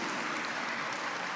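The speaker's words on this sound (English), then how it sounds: "You clap now" Audience applause at a community gathering and talk forms a steady, moderately loud patter of many hands clapping, unbroken throughout.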